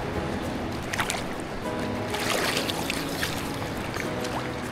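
Sea water at Casiguran, Aurora, swishes and splashes close by as someone wades in, with steady sloshing and small bursts of spray over a constant watery background.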